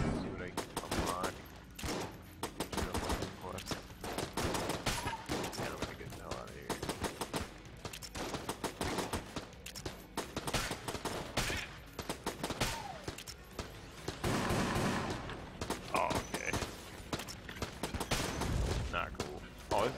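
An in-game turret in Enter the Gungeon fires endlessly, with dense, rapid bursts of gunfire that carry on for the full twenty seconds alongside other game effects.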